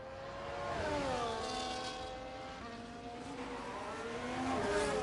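Race car engines in a racing video game at the Bahrain circuit, steady whining tones rising and falling as cars lap, continuous and moderately loud with no talk.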